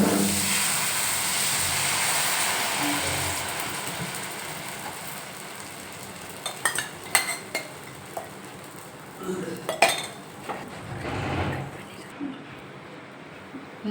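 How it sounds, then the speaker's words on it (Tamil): Karupatti appam batter made with palm jaggery hits a hot dosa griddle, giving a broad steady hiss that later thins out under a few sharp metallic clinks of utensils and a brief renewed sizzle. "எங்ககிட்ட ஆப்பச்சட்டி இல்லை, தோசைக்கல்லில் தான் ஊற்ற போகிறோம்"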